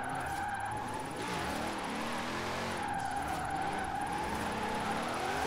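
Car drifting in Forza Horizon 4 on PC, a Formula Drift 1500hp build in fifth gear through a drift zone: a loud sustained engine drone with continuous tire squeal, steady throughout and alone.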